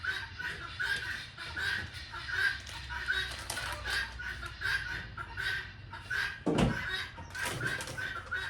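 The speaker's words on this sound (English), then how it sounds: "I hope y'all can hear me over the guineas and the chickens." Guinea fowl and chickens call outdoors on a farm in a loud, continuous chorus of repeated harsh cackles and clucks, busy and close throughout, with one sharp thump near the end.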